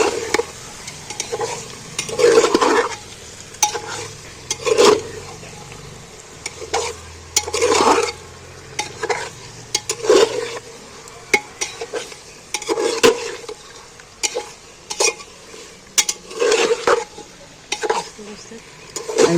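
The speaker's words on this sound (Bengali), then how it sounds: "এইবার আমি মাংসটা ভালো করে কষিয়ে নেব" Mutton is stirred and fried with spices in a pan: a spatula scrapes and clinks against the pan at regular intervals over a soft, steady sizzle, with a voice talking at times.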